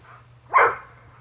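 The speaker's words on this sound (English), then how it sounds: "Those are the neighbor dogs playing." A single short bark comes from a neighbor's dog at play outdoors in a Florida garden. It sounds moderately distant over a faint low hum.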